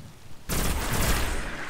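Pulse rifle fire in Destiny on PS4 at the Shrine of Oryx, a sudden loud burst of gunfire that begins after a quiet moment and continues as a dense, sustained roar of rapid shots.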